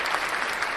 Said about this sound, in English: Well, applause for Nick and Ryan, everybody